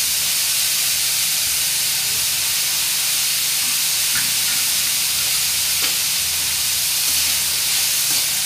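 Garlic sautéing in a pan for a drumstick-leaf bhaji gives a steady, even hiss of frying that carries unbroken from start to finish, close by, with no voices.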